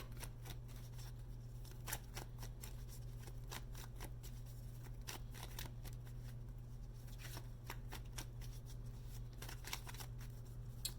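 Energy Oracle cards by Sandra Ann Taylor are shuffled by hand, with quiet, irregular papery riffles and taps repeating throughout over a low steady hum.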